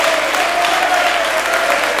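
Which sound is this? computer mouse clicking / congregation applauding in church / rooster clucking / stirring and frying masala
congregation applauding in church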